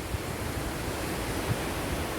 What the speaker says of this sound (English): It is just churning. The river coming down, the sea coming in.